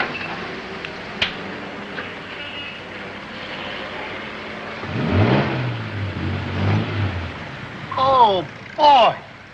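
An old car's engine drones steadily as the car pulls away, its low rumble building midway, while people talk over it near the end.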